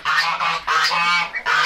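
Geese honking on a farm, several loud, close, nasal honks in quick succession with brief gaps between them.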